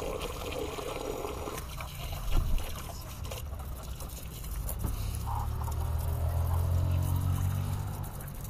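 Water is sprayed and splashed over a car engine bay while it is being washed, a steady broadband rush with patter and dribbling that grows heavier and fuller in the second half.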